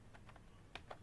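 A few soft, scattered keystrokes on a computer keyboard while coding in VS Code, faint and close, with no talking.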